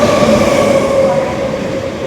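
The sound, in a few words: goods train passing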